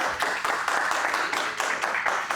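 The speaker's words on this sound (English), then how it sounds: "Let's give a round of applause to Uttam" An audience at a tech talk event applauds a speaker, a steady patter of many hands clapping at moderate volume with slight swells, and no voices over it.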